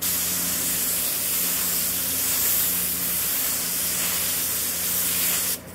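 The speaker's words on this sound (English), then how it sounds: "Just give it a little test spray on here." A steady, loud hiss of a paint spray gun misting continuously for several seconds in a test spray, close up, cutting off abruptly at the end.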